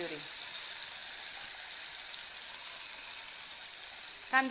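Onion puree and tomato sauté in a pan for chicken sukka, giving a steady, close hiss of sizzling that fills the whole stretch, with a voice briefly heard at the start and end.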